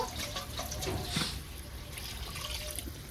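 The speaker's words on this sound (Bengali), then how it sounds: "এবার জল দিয়ে দেবো, জল আর একটু দিতে হবে" Water pouring into a pot of chicken curry with jackfruit, a steady splashing wash of liquid running the full length, moderately loud and close with no talk over it.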